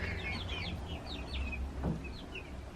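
Soft clucks and chirpy calls from chickens come and go over a constant low hum, fairly quiet and scattered.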